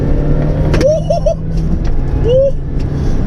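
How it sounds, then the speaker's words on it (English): Mini Cooper S being driven hard through a corner, with a steady engine drone and supercharger whine from inside the cabin and a few short rising chirps over it. "brake into the corner and out with the supercharger whine"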